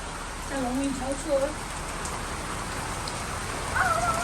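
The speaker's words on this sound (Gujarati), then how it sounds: "ફાઇનલી વરસાદ આવી ગયો" Soft, steady rain hiss in the forest at Matheran, India, with brief tonal bird-like chirps or voice fragments near the start and end.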